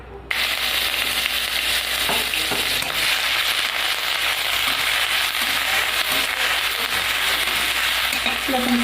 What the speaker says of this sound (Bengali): দেখুন, পেঁয়াজটা একটু ভাজা ভাজা হয়ে গেছে